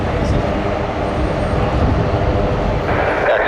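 A Royal Canadian Air Force aircraft departing Toronto Pearson International Airport, a loud, continuous engine roar that holds steady throughout.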